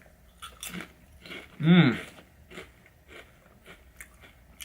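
Crisp bites and crunches of spicy kettle chips, close and loud, with one strong crunching bite standing out among several smaller chewing crackles.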